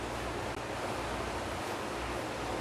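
Heavy rain pours in a steady, dense, close hiss that stays loud and unbroken throughout, with no voices.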